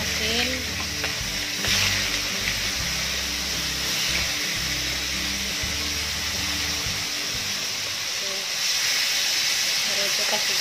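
Salted fish (ikan masin) frying in hot oil, a steady loud sizzle and hiss that carries on throughout, with a brief mid-clip dip and occasional stirring bumps; a voice talks faintly underneath.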